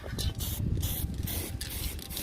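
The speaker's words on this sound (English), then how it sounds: "But I want to give it a quick spray." Aerosol paint sprays onto a car panel in steady hissing bursts with brief pauses between passes, loud and close with no talking.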